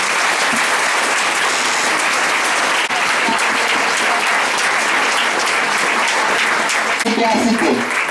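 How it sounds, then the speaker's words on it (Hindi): A church congregation at a Yesu ministry gathering applauds loudly, a dense, sustained wash of clapping from many hands filling the room, with a voice briefly audible near the end. "कई बार प्रभु की महिमा करिए जोरदार ताली से।"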